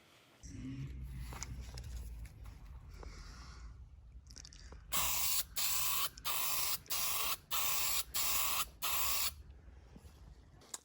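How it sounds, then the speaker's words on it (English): A spray putty can hisses in about seven short bursts, evenly spaced and close, coating a Microbee computer part after some quiet handling sounds; no one speaks. "And this is now ready for its first coat of spray putty."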